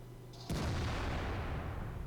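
A tank destroyer's gun firing in World of Tanks, a single sudden heavy boom that drops into a long rumbling roar, loud and close, with no voices.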